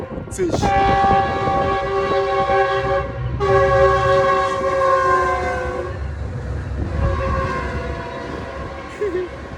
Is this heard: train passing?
yes